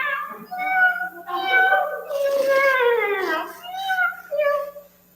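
Several people take turns voicing cat meows at a party, a string of drawn-out, wavering human imitations of a cat, close and fairly loud, with short gaps between each call.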